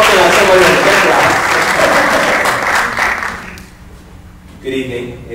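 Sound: audience applause at film festival

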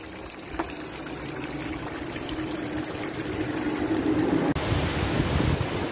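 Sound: waterfall flowing

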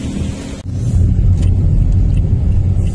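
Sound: car driving

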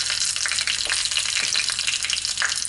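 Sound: dried red chilies frying in hot ghee

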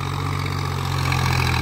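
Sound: small Kartar tractor engine running

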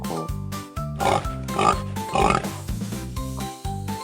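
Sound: pig oinking

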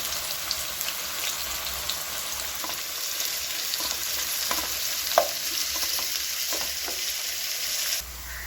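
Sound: onions frying in ghee for biryani

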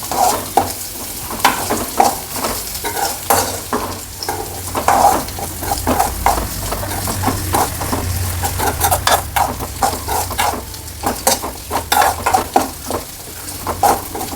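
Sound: coconut being roasted and stirred in a pan

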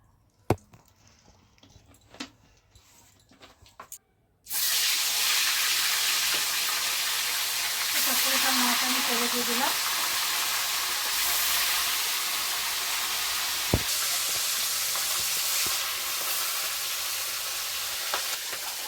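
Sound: oil sizzling in a wok for fish curry

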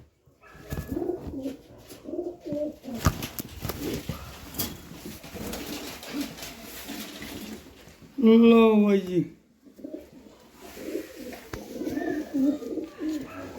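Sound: blue pigeons cooing

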